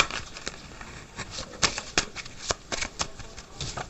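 Lenormand cards being shuffled by hand, a dense, crisp riffling patter with sharp slaps, close and fairly loud with no talking.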